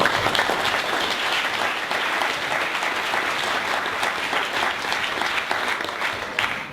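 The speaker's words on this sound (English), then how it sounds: "Clapping for myself." A crowd at a local tech meetup gives a full, steady round of applause, many hands clapping together at even volume until it tapers slightly at the close.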